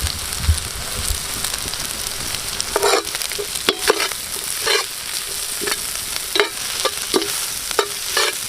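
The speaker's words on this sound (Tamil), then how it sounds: "பச்சை வடை போகிற வரைக்கும் நல்லா வதக்கி விட்ருவோம்" Close, continuous sizzle of crushed ginger and garlic sautéing in a pan, punctuated by repeated stirring clatters every second or so, with no talking.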